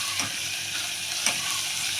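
Mint leaves go into a hot frying pan for menthya bath, producing a soft steady sizzle with a couple of faint clicks and taps from the pan, with no talking.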